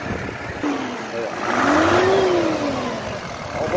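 All-original pickup truck at a car fair in Brasília revs its engine, a rising and falling mid-pitched roar over steady background noise.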